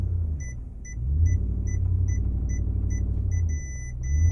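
A Ford F-150 pickup creeps up a curb in the UK. Its engine gives a steady low rumble that swells as it climbs, and a repeating electronic beep sounds throughout, close by and without talk.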